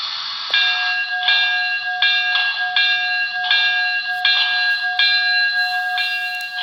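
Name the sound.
locomotive bell sound on Broadway Limited HO PRR K4s model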